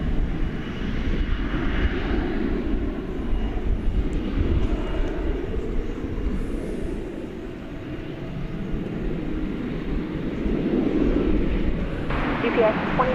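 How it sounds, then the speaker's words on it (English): A Spirit Airbus A320neo jet at DFW Airport at night, its engines giving a steady, broad roar at moderate distance with a faint voice in the background. "Spirit Flight 2046 is going to Chicago O'Hare International Airport. It's an Airbus A320neo."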